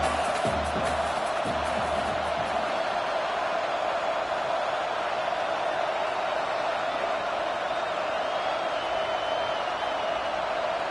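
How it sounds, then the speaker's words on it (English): Loud, steady roar of a packed college football stadium crowd during a game against Florida State, swelling to force a false start, a continuous wash of noise with no gaps across the whole stretch. "the crowd forces a false start"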